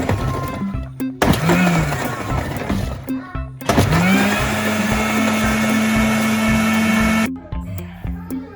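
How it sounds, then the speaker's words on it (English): A blender grinds used paper with water into pulp, a loud whirring motor roar that runs in bursts with brief pauses. The pitch rises as it spins up, and there is no talk. "Grind some used paper by adding water."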